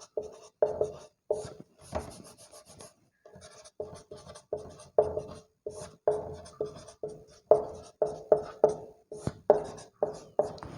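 Pen writing on a board during a maths lecture on differential equations, heard as a string of short taps and scratchy strokes in uneven rhythm, close and clear, with no speech over it.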